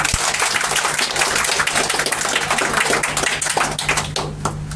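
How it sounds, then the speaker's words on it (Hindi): A classroom of students claps together loudly and continuously for several seconds, a dense patter of hands in a room that thins slightly toward the end. "अपने खुशी के लिए जोरदार ताली।"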